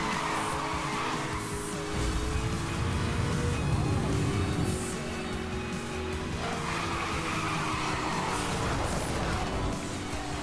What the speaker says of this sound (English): Drift through here.